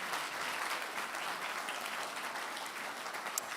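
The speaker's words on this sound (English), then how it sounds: "A round of applause for them." Steady applause from an awards-ceremony audience, even and fairly distant, continuing throughout without a break.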